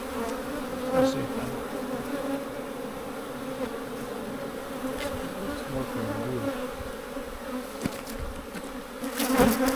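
Honeybees buzz steadily around a beehive where supers are full and the bees are drawing comb on the tops of the frames, a dense close drone with a few louder passes near the end.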